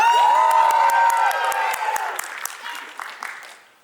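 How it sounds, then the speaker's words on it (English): Crowd at a furry convention dance competition cheering, whooping and clapping loudly, with a high sustained whoop rising above the noise before the cheering fades out over a few seconds. "They do something you like, cheer."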